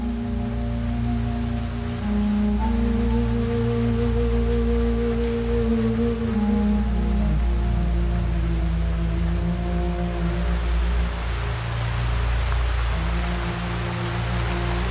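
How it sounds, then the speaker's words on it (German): Heavy rain pours steadily and loudly at a treehouse building site, a dense continuous hiss mixed with a low droning tone throughout. "Der Regen ist zu stark."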